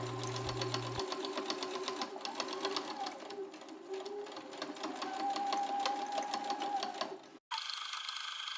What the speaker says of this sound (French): Et on vient le coudre à 5 mm du bord.